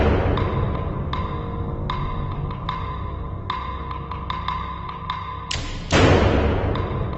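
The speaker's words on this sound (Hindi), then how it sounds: "शायद किसी फ्रेंड ने दरवाजा खटखटाया होगा" Knocking on a door as a radio drama sound effect, a run of repeated dull thuds at an uneven pace, followed by a louder heavier bang near the end, with no talk over it.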